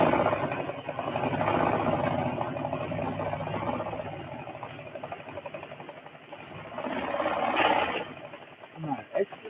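A sewing machine runs close by with a fast, steady mechanical clatter that surges and eases over several seconds, partly under a person talking.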